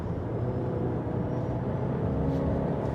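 A 2024 Alfa Romeo Tonale Veloce PHEV with all-wheel drive, in dynamic mode on hard damper settings, rolls along twisty roads with a steady low road and engine rumble heard from inside the cabin, continuous and fairly even throughout.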